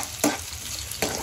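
Ginger pieces frying in a pan over low flame, a soft steady sizzle broken by two brief scraping stirs, close and quiet.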